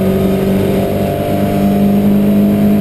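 Porsche 924 race cars at Silverstone hold a loud, steady engine drone with a sustained, even pitch, close and unbroken throughout.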